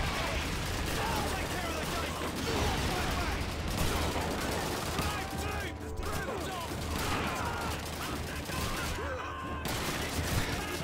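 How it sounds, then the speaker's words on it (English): Gunfire from the Call of Duty 2 video game during a Matmata level, heard as a dense, continuous fusillade of shots and distant blasts throughout. It sounds moderately loud, and a player talks over it intermittently. "No, I'm getting shot in every known direction."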